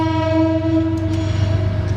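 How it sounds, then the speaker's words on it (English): A train horn blows in a long, steady tone over the low rumble of a passing train. "Let the train go by."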